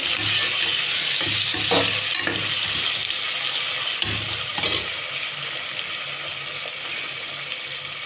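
A vegetable palav mixture stir-fried in a pan until brown, with a close, loud sizzle and rhythmic stirring scrapes in the first half that settle into a steadier, fainter hiss.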